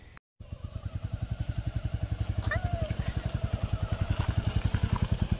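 A motorcycle engine running and pulling away, a close, steady rapid thumping pulse that builds slightly in pace, with a brief dropout near the start and faint voices in the background.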